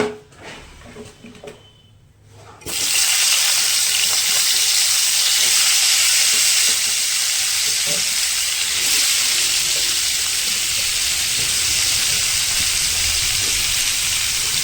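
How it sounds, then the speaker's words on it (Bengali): Washed, cut potatoes dropped into hot oil for a Bengali fish and potato curry, a sudden loud burst of sizzling that settles into a steady, close, continuous crackling fry. "এর মধ্যে দিয়ে দেবো কেটে ধুয়ে রাখা আলু।"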